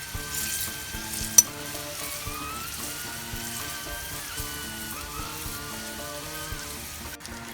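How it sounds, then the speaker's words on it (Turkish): Okra deep-frying in hot oil, a dense continuous sizzle and crackle that runs steadily throughout, with one sharp click partway through and no voices. "Bamyalarımız kızardı."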